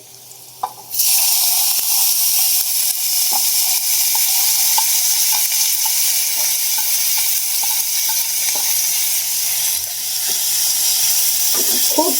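Chopped cabbage tipped into a hot pan with curry leaves for a simple dal-cabbage dish, erupting into a loud, continuous sizzle that stays steady for several seconds with faint scraping stirs.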